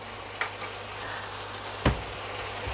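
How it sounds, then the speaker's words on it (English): Chicken with ginger and garlic sizzles steadily in a frying pan, with two sharp clacks of a utensil against the pan as it is stirred; no voices. "Just give that a stir."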